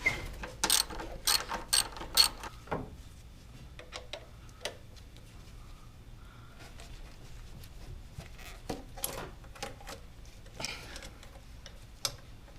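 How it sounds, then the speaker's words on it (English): Ratchet with a 14mm socket working strut bolts loose on a Honda S2000, heard as quick bursts of close clicking pawl ratcheting between quieter pauses and small metallic taps. "the only thing you're going to need is a 14mm socket so that you can actually get to these strut bolts"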